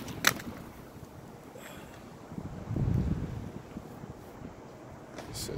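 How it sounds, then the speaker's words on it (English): Low, uneven wind buffeting rumbles across the microphone, swelling strongly near the middle, with no voices. "It's all windy out here"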